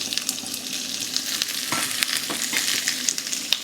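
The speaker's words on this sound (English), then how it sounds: "when your veg oil is hot, just on the verge of starting to smoke, you're going to put in your onions," Onions and green peppers sizzle steadily in smoking-hot vegetable oil for a spicy Sichuan chicken stir-fry, a continuous close frying hiss with small pops and crackles and no voices.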